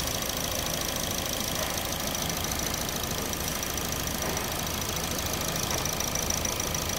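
Car engine idling steadily with a constant mechanical rumble and ticking, a car with a P0328 knock sensor fault, running alone and evenly with no voices.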